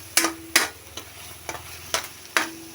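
Food stirred and mixed in a pan with onion and garlic, five or six sharp scraping strokes at a steady pace over a low sizzle, close and clear, no talking.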